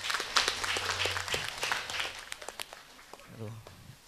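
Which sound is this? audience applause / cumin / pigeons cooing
audience applause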